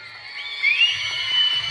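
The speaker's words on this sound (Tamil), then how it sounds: "நல்லா ஜோரா கைதட்டுங்கள், சீட்டிடுங்கள் வீரர்களை." A large crowd at a jallikattu bull-taming contest, the Thiruvani Manthaipidari Mariamman team against Vettikulam Ravichandran's bull Daulat, cheers and whistles steadily, with sharp whistles cutting above a continuous roar that swells midway.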